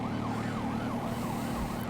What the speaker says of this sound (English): I'm gonna disable the siren, because it's annoying as shit.